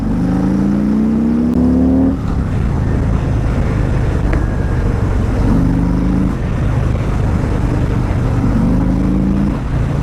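A Harley-Davidson motorcycle engine revving under throttle, loud and close, with a deep steady rumble and repeated rising rev swells.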